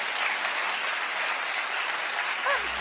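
Audience applause from a reunion show crowd, a steady dense wash of clapping sustained throughout with no talk over it.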